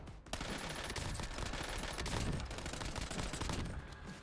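Rapid automatic gunfire rattles in Call of Duty Warzone, a dense, loud, continuous burst of shots lasting several seconds with no pauses.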